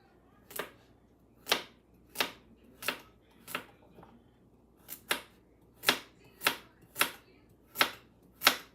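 Carrots being chopped thinly on a board, about a dozen sharp, evenly spaced knife knocks sounding close and clear with nothing else over them.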